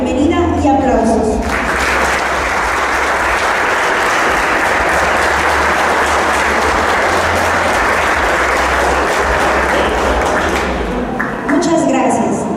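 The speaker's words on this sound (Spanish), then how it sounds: "una cálida bienvenida y aplausos" An audience claps to welcome the speakers at a book presentation in Jalpa de Méndez, a dense, loud, sustained round of applause lasting about ten seconds before tapering off, with speech at the edges.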